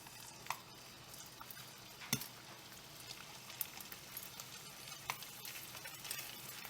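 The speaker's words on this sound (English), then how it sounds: "Little oil in the pan, olive oil. Just giving them color." Chicken pieces browning in olive oil in a pan give a faint, steady sizzle, broken by a few light clinks of utensils or cookware.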